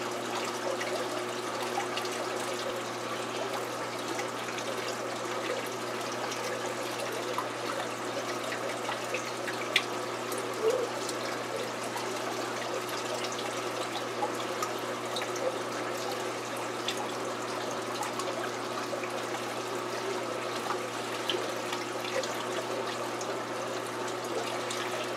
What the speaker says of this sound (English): let's give that a few minutes to let the tank fill up